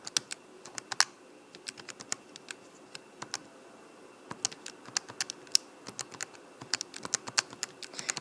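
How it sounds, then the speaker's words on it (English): Keys on a graphing calculator being pressed one after another while numbers are entered into statistics lists, giving irregular quick clicks in short bursts with brief pauses, close and fairly quiet, with no talk. "type the height into list 1. And type your volume into list 2."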